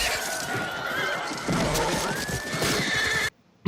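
Horses neigh and whinny loudly amid clattering hooves and crashing impacts as English cavalry charges into a wall of spears in a battle scene from Braveheart, ending in a sudden cut to near silence.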